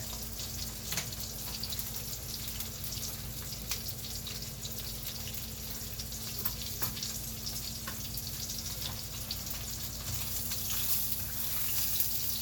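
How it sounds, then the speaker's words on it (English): Salmon skin sizzles steadily in a hot pan alongside a lobster tail, a constant crackling fry with faint pops and spatters that holds at an even level and grows slightly louder near the end. "we're gonna keep the salmon skin cooking for just a little bit"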